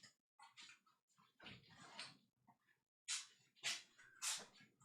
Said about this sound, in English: Oh hell yeah, that's a dog.